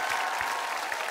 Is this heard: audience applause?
yes